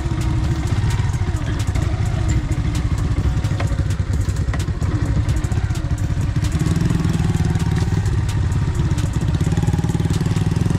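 Motorcycle engine running steadily and loud throughout a ride toward Parang Kursi beach, a continuous low rumble with some rattling clatter and no talk.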